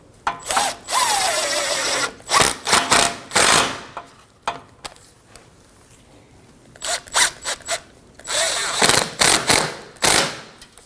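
Power tool bursts snugging hose clamp bolts on a 2015-2024 Ford Edge 2.0L four-cylinder during intercooler hose work, several short whirring and ratcheting runs with pauses between, close and loud.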